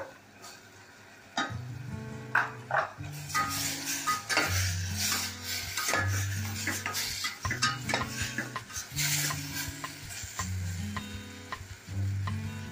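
Chopped capsicum goes into a hot pan of tomato sabzi with a sharp sizzle, then a spoon scrapes and clanks against the pan repeatedly in a busy, close rhythm.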